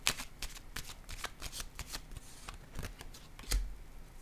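Tarot cards being shuffled and laid down, giving a string of crisp flicks and soft slaps at an uneven pace. The sounds are close and clear, and no one speaks over them.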